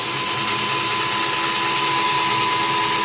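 A power drill boring a hole into a coconut runs as a steady, loud whine throughout, with no pauses or talk.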